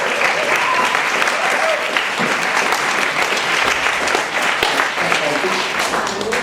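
An audience breaks into warm applause for a speaker, the mayor of Hackney, at an indoor event: dense, continuous clapping from a crowd that holds steady throughout and is loud and close.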